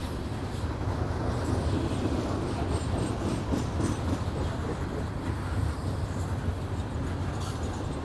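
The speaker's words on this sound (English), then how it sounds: "That's a long coal train." A long coal train rolls past at a distance with a steady rumble and faint rhythmic clatter of wheels, continuous throughout without any talking.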